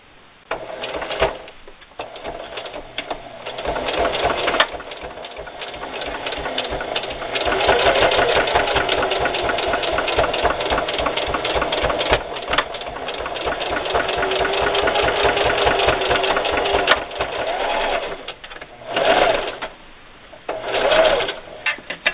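A sewing machine runs a steady, loud stitching pass along fabric for a pacifier clip, backstitching at the start and end. It hums with short pauses and restarts for nearly the whole stretch, alone with no talk.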